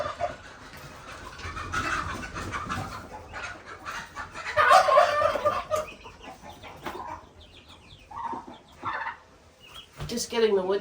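Chickens cluck and call nearby by a brooder house with chicks, with a few crowing-like cries mixed in, while someone talks quietly now and then.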